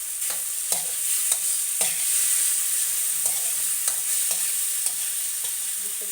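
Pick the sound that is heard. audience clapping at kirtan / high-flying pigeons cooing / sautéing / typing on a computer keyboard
sautéing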